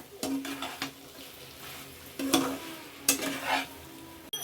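Fish heads and drumstick stems sizzle steadily in a pan while a utensil scrapes and stirs in a few distinct strokes, close and fairly quiet.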